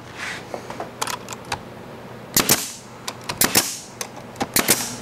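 Nail gun firing into wood while assembling a paint drying rack, a series of sharp, close pneumatic shots in irregular bursts, some in quick pairs, over a quiet background.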